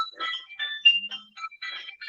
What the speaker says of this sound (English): phone starts doing a jingle, I think